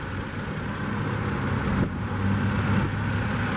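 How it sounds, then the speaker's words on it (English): A 2013 BMW 128i coupe's 3-liter inline six-cylinder idles steadily at close range, a continuous low engine hum with a faint rise near the two-second mark and no talk over it. "this one does have BMW's 3-liter inline 6-cylinder."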